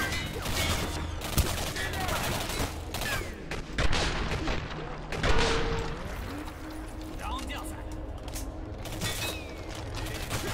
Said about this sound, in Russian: Гаус, стреляющий разрывными иглами.